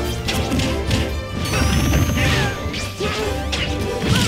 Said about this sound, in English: There's a forward smash.